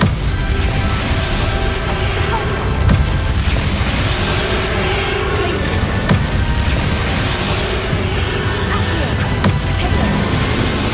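Video game battle with the Bombarda spell against a boss, dense loud booming blasts and crashes layered over continuous combat noise and game music.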